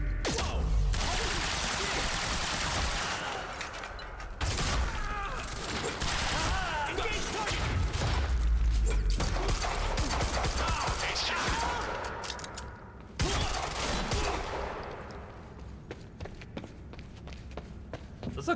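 Sustained gunfire and combat noise from the time-bending shooter game Quantum Break, dense bursts of shots and impacts running loud and nearly continuous, with brief lulls and a player voice occasionally heard over the action.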